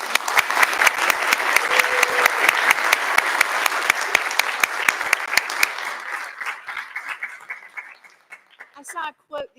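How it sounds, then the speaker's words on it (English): Graduation audience at a university mathematics department ceremony breaks into steady, loud applause with crisp individual claps, fading out toward the end amid a few scattered claps and murmurs. "I'd like for us just to take a moment and applaud and thank those folks"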